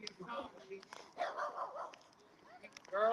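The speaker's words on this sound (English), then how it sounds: "we got a little puppy out here." A small puppy yips and barks in short bursts outdoors at a local political gathering, the high barks mixed with people talking nearby.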